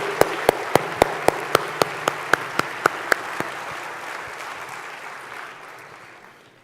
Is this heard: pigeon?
no